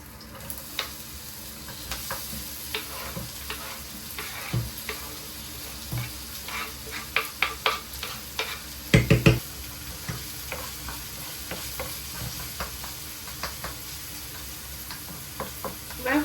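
Onions and peppers sauté in a little oil in a pan, giving a steady sizzle broken by sharp clacks and scrapes of a utensil stirring against the pan, no talk.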